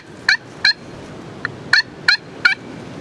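A turkey call worked with a striker gives six short, sharp yelps in an uneven rhythm, loud and close against a quiet background.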